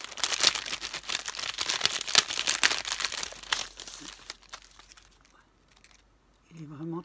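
Paper sticker peeled slowly from a backing sheet during scrapbooking, giving close, dense crinkling and tearing rustles for several seconds before going quiet, with a brief voice near the end.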